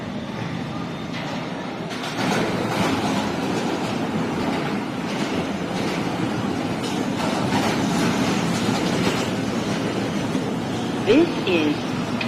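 An R160B Siemens subway car on the New York R line rumbles between stations, a loud continuous roar of wheels and motors with rhythmic clatter and a brief squeal near the end, heard from inside the car.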